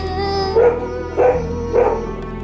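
Three loud barks from a nearby dog, evenly spaced about half a second apart, over a steady background hum.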